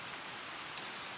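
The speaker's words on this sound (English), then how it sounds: "Another night of rain all night long." Steady rain falls through the night on the Appalachian Trail near Bennington, Vermont, a continuous even hiss of drops pattering on surfaces, close and moderately loud, with no voices.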